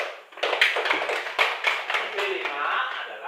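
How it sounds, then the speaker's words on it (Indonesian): Primary school children in an Indonesian classroom clap their hands together in a lively, uneven burst of many small claps, fairly close and loud, fading into a softer patter toward the end. "Tepuk tangan dulu."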